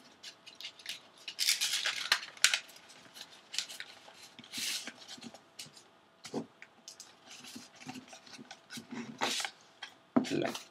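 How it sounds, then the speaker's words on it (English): A sheet of paper is rolled by hand into a tube for a paper uzi craft, giving close, crisp crinkles and rustling bursts in uneven clusters with brief quiet pauses. "you're going to roll it up again from the shorter side up to the other in"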